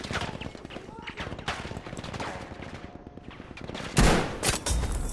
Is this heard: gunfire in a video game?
yes